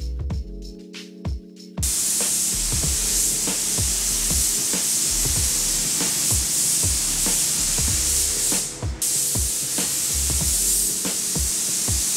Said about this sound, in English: This is like putting on like a layer of lightweight body filler, but spraying it on